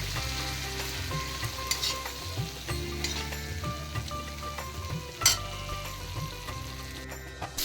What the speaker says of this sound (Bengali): তো এখন একটু এগুলোকে ভেজে নেব